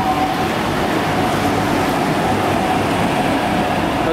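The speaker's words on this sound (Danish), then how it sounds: "Her det er også sporvognslinje 2, 3, 36'eren." A Gothenburg tram on lines 2, 3 or 36 passes nearby with a steady, dense rail rumble and rolling wheel noise that stays loud and even throughout. No one speaks.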